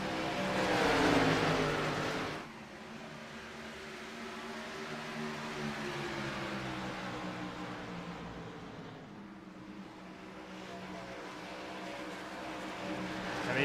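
Stock cars in the iRacing Xfinity Series at Rockingham race side by side toward turns one and two, engines droning in a steady, loud, continuous roar with shifting pitch and no voices over it.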